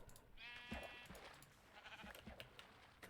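A Minecraft sheep bleats in a short, faint, wavering call, followed by soft clicks and footsteps in the game.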